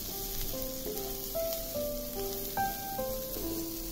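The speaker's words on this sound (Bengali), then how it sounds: "কড়াইয়ে তেল দিয়ে গরম হলে প্রথমে মাছের মাথা দেবে, লবণ, হলুদ আর কাঁচামরিচ দিয়ে ভাজতে থাকবে।" A fish head fries in hot oil in a wok with salt, turmeric and green chilli, giving a steady close sizzle while a soft melodic tune plays along underneath.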